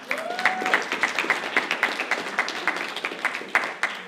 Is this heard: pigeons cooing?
no